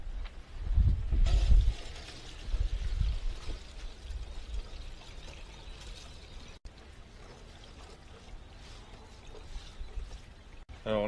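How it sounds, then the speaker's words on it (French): Cooked hemp and other bait seeds, left overnight in a cast-iron pot, are drained with a pouring, trickling water sound that is loudest early on and then settles into a steady, fainter flow, with a voice talking at times. "la première des choses, ça va être donc d'égoutter les graines que j'ai fait cuire hier soir"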